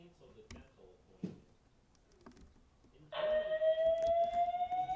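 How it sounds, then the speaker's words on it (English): In a Roblox game, a school fire alarm siren kicks in partway through, a loud steady rising electronic tone, after quieter speech and scattered sounds. "we should probably activate the alarm right here"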